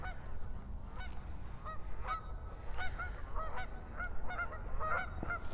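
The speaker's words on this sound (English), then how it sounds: "yeah, here's all the geese." Geese honk repeatedly outdoors, a scattered flock calling in overlapping bursts over a steady low background rumble, loud and fairly close.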